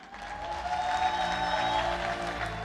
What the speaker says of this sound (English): let's give a warm round of applause to Dalia Kamar